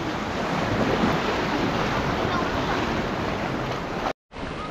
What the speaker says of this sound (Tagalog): lakas ng alon ah.